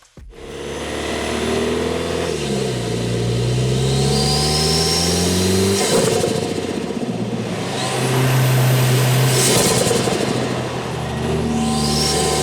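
A fourth-generation Toyota Tacoma pickup fitted with an aftermarket SXTH ELEMENT intake starts off and pulls away, its engine revving up through rising gear pulls and then droning steadily, loud and close, with no talking.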